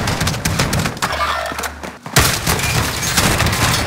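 Gunfire from a shotgun and pistol in a video game comes as a dense barrage of sharp loud cracks and booms, with a brief lull midway before the shots resume.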